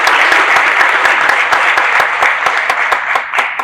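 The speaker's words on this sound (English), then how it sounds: "so let's give her a round of applause" Loud, sustained applause from a crowd at an awards ceremony, many hands clapping in a thick continuous wash with sharper individual claps standing out, tapering slightly near the end.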